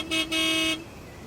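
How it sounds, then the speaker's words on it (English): A car horn toots twice in quick succession, a short blast followed by a longer held one, clear and steady against a quiet outdoor backdrop, with no one talking. "an angry car driver tooted his horn"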